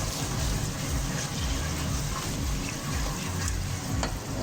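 Chicken macaroni cooking over high flame with ketchup, stirred in a pan: steady loud sizzling with a rhythmic scraping and shuffling of the spoon through the mix, no voices.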